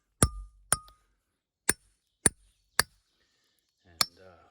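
A chisel tapped between wedges on a concrete foundation footing gives six sharp metallic ringing strikes spaced about half a second to a second apart, each decaying quickly, close and alone with a faint rumble near the end.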